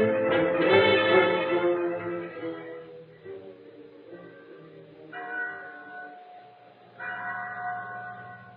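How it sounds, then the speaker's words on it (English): A chapel bell rings with lingering, resonant tones that fade between strikes, a few spaced peals with a faint voice underneath. "There was a bell in the chapel at San Pedro. When it rang, its clear tones carried over the plains"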